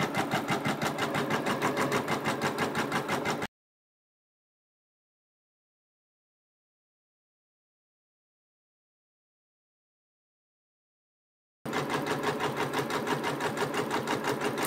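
A Janome embroidery sewing machine stitches a quilt block in two steady, rapid bursts, running for a few seconds, then falling silent for about eight seconds before starting again, with no talk over it.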